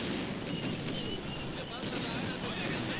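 Gunfire against tanks in the WWII strategy game Blitzkrieg 2: a steady, dense din of battle with repeated sharp shots and distant bursts running through the whole stretch.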